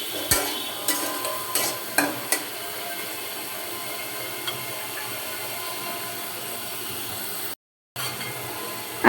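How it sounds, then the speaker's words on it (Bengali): Potato pieces fry in hot oil in a pan under a steady sizzle, while a utensil stirs them with several quick scraping clacks early on, then fades to a smoother frying hiss. "একটু নেড়ে চেড়ে লাল করে ভেজে নেব"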